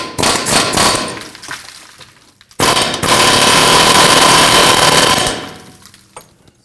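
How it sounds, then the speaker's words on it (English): An air hammer rattles in loud rapid bursts against bolts to drive a rear wheel hub out of the knuckle on a 2013-2019 Ford Explorer Interceptor, one short burst, a pause, then a longer sustained hammering run, no talk. "Now we're going to go ahead and use our air hammer, and we're going to utilize these bolts to go ahead and hammer these"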